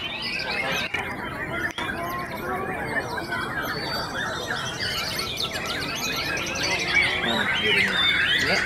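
White-rumped shamas (murai batu) sing continuously in a songbird contest duel, with dense overlapping whistles, trills and chirps that stay loud and close throughout against a busy crowd background.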